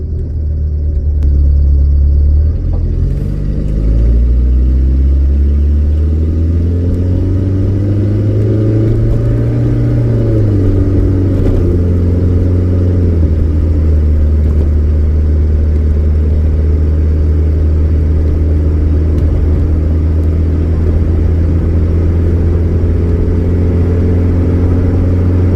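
A rescued K Car's engine runs at a steady, loud, high idle, a droning rumble that climbs briefly as the revs rise and then settles into an even hum for a long stretch.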